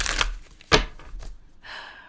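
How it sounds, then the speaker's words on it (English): Tarot cards shuffled by hand during a reading: a few brief papery riffles and slaps, the loudest near the middle, followed by a soft sustained rustle, close and fairly quiet. "I just shuffle and let the cards fall out of the deck as needed"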